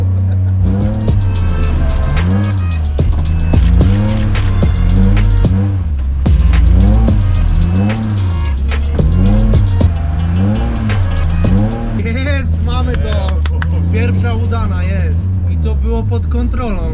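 A Mazda RX-8 drifts on a track, its engine revving up and down in repeated rising and falling surges with tire squeal, loud and close, with people talking over it.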